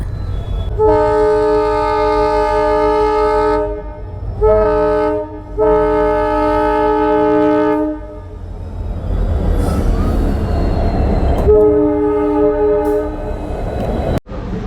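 A train rumbles past close by a level crossing in Rajasthan, its horn blaring in several long blasts over the heavy clatter of wheels on the rails.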